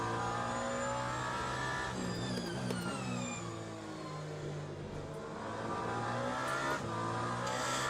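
A Toyota hypercar in the Le Mans Ultimate racing game at Bahrain roars at close range, its engine revving up and down through quick gear changes as the car is pushed hard around the track, with no talk over it.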